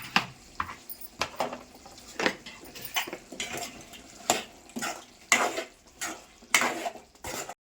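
Chicken curry with chicken masala stirred in a pot, village-style cooking: a ladle scrapes and clacks against the metal in irregular strokes, fairly close and alone, with no talk.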